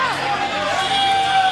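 Crowd at a Veer Shasan Group stage event cheering and whooping, a dense, steady roar of voices and yells close by with little clear clapping.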